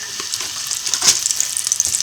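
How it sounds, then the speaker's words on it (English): Close, steady sizzling and crackling of sausages frying in hot oil, with scattered pops and spits throughout. "add them into the hot oil. You can see it sizzling"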